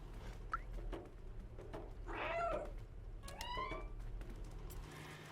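A cat in the video game Stray gives a few soft, faint meows amid quiet ambient background sound, with a louder drawn-out cry in the middle.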